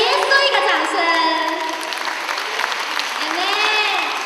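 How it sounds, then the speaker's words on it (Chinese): Applause from a church congregation at a joint Christmas thanksgiving service, a steady wash of clapping lasting several seconds with voices and ringing tones mixed in. "也给耶稣一个掌声。"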